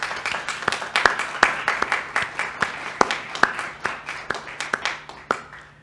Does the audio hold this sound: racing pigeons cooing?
no